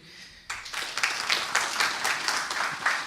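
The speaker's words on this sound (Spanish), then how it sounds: "Un gran aplauso a MySQL." Audience applause at a conference talk, a sudden burst of steady clapping from a crowd that starts abruptly and continues evenly at moderate loudness.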